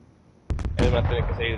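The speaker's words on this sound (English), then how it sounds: "Yo, explosion, explosion." An explosion in a shooter video game bursts loud and close after a couple of sharp cracks, followed by a lingering, noisy rumble, with a voice talking over it.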